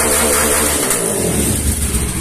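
A modified motorcycle engine roars up close, revving loudly and continuously with a rough, throaty tone that swells and settles over a couple of seconds, no voices heard.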